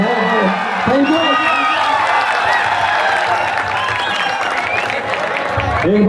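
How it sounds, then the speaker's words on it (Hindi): An audience applauds loudly at a cultural programme for an ASI batch at RTC Arakkonam, a steady wash of clapping throughout with a voice speaking or singing over it. "एक बार फिर जोरदार तालियों से स्वागत"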